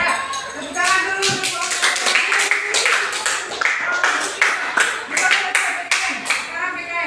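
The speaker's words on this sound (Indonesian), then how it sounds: "Ya, tepuk tangan dulu." Schoolchildren in an elementary classroom clap their hands together in loud, close, ragged bursts, with children's voices chattering and calling out between and under the claps.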